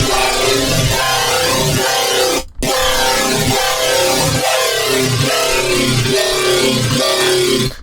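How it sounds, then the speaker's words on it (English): A nasty, growling bass synth patch built on Serum wavetables plays as a loud, dense, gritty sound with rhythmic wobbling pulses, broken by one short gap partway through. "We got a nasty kind of growl here,"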